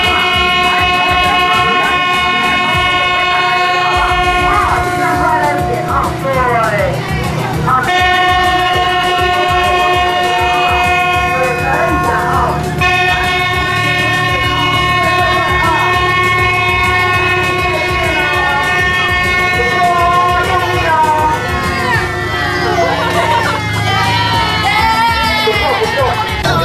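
An imitation mini train runs with a sustained horn that sounds in long held blasts, broken by short gaps, over a rumbling ride, while a crowd murmurs and people talk.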